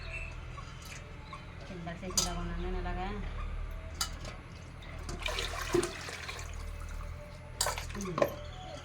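Greens are washed by hand in water in a pot in a village kitchen, with splashing, dripping and clinks of metal under a steady background hum and some distant voices.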